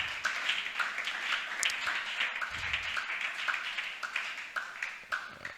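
A church congregation claps and acclaims during a pastor's service, a steady, moderately distant patter of many hands with faint voices mixed in.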